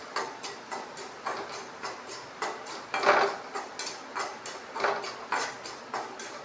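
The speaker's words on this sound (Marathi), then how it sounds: "आता यामध्ये आपला हा बारीक रवा आपल्याला यामध्ये भाजून घ्यायचा आहे." Fine semolina roasting in ghee in a kadhai, with a spatula scraping and knocking against the pan in a steady rhythmic series of close, distinct strokes and no talking.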